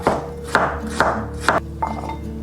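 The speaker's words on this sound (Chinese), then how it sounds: "准备一些削皮的生姜，我们给它切片片。" A knife cuts peeled ginger into slices on a board in four evenly spaced crisp chops, each with a short woody knock. A fainter fifth cut follows, and no one speaks.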